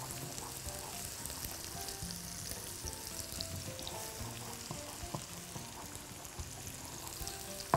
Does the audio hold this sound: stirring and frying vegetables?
yes